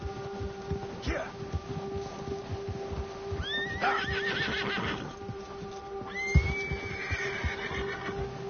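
Horse whinnies loudly in Red Dead Redemption 2 during a ride, with several rising neighs over a steady clip-clop of hooves and a low hum of game ambience beneath.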